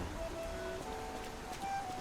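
Steady, quiet rainfall in the Lies of P video game, a soft continuous patter of raindrops heard alone with no voices.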